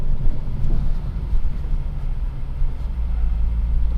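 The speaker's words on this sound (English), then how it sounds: "Just sounds so cool when you're doing that downshift." Close, loud engine rumble of a car dropping a gear, a steady low drone roughened by wind buffeting, with no speech over it.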